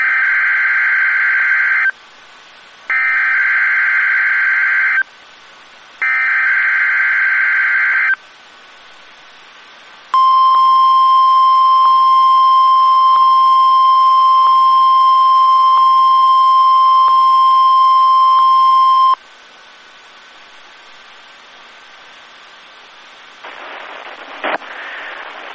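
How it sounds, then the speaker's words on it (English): NOAA Weather Radio public warning system test: three loud, steady two-tone alert bursts separated by short gaps, then a long, sustained single high tone lasting about nine seconds, followed by quiet carrier hiss. "The preceding signal was a test of NOAA Weather Radio's public warning system."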